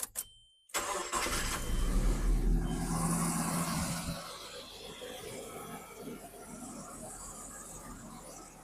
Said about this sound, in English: we're going to turn on our engine